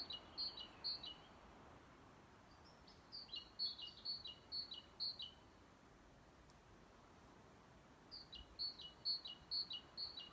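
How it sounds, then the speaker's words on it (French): Bright bird chirps come in short bursts with a pause between them, faint over a soft background hiss. "parce que vous entendez avec votre oreille gauche le chant des oiseaux"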